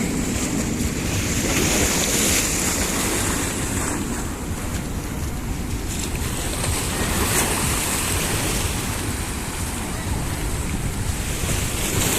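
Sea waves wash continuously while strong wind buffets the microphone, a loud, unbroken roar of surf and gusts.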